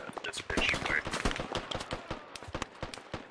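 SKS rifle fire in the military shooter game Squad: rapid bursts and single cracks repeat densely and close, with echoing reports and a brief mid-pitched whine mixed in. A voice speaks over the gunfire.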